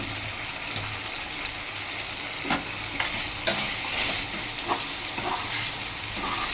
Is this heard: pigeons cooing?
no